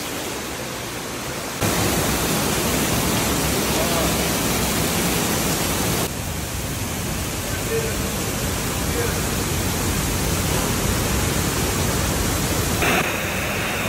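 A powerful waterfall in Dominica roars as a dense, steady rush of broadband noise, loud and close, cutting in abruptly and holding constant with no voices over it.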